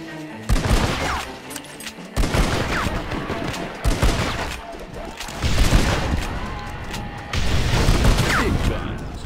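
Shotgun blasts from the video game Red Dead Redemption boom out in loud separate bursts, several heavy shots spaced a second or two apart with brief echoing tails and a burst of rapid fire near the end.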